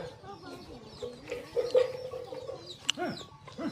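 Chickens cluck softly at close to middle distance in a rural Shan village in Shan State, with short irregular calls and a brief sharper squawk amid quiet background noise.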